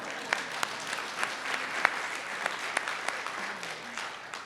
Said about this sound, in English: Yeah, you can clap, it's fine.